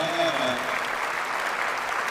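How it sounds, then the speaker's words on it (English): An audience at a Virginia Beach State of the City address breaks into steady applause, a dense even patter of many hands clapping at moderate loudness with a brief voice trailing off at the start. "let's give them a round of applause"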